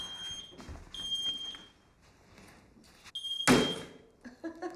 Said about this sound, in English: It's just the battery going dead in the smoke alarm.